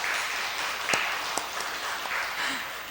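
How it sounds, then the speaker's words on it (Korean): A church congregation claps to encourage its pastor and elders, a steady wash of many hands under faint echoing voices for a few seconds. "우리 박수로 격려하겠습니다"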